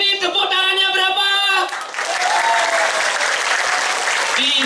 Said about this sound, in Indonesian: Untuk ini tepuk tangannya berapa?